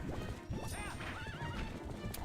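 A horse in the video game Zelda: Twilight Princess whinnies loudly over galloping hoofbeats, a close, continuous burst with no voices.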